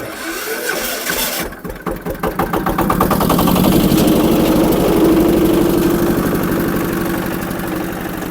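A DW 160 motor tractor engine cranks, catches and settles into a loud, steady idle, its chugging pulses close and continuous after a few seconds of starting effort.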